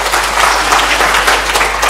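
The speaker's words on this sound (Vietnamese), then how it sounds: "Hãy vỗ tay cảm tạ được Chúa Trời." Applause from a church congregation during a Vietnamese Protestant sermon: dense, steady clapping from many hands, fairly loud and continuous throughout with no voices over it.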